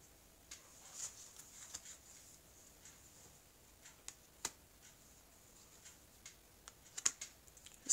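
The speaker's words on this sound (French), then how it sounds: "je vais couper le jeu et je vais recouvrir ici les cartes" A deck of cards is cut and the cards are laid out one by one on a table, making soft, scattered taps and flicks, quiet and close, with no speech.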